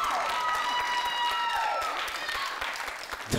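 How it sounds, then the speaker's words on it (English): Steady, dense clapping from a small group fills the clip, with a busy background of voices and chatter running underneath throughout. "Just clapping so hard."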